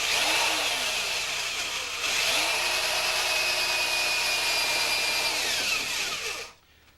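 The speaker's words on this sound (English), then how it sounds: "I'm only going to drill about halfway through the door" A power drill whines loudly and steadily as it bores halfway into a wooden door, its pitch shifting slightly, then stops.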